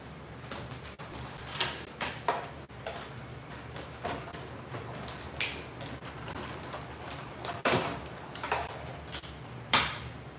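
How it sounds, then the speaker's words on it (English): A die cutting machine feeds paper through its rollers for a card, giving a close, steady mechanical grind with scattered ticks and clicks over roughly ten seconds and no voice. "let me run this through the die cutting machine"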